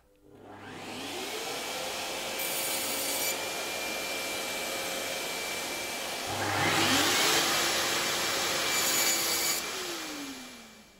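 A Festool TKS 80 table saw spins up and cuts a narrow wood piece guided on its sliding table, a loud whining motor hum rising in pitch with a brighter rasping bite during the cut, then winding down.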